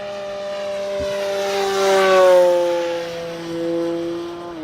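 RC model airplane flying overhead, its propeller whining in a steady buzzing tone that rises as it approaches and falls away with a Doppler sweep, loud and close, no talking.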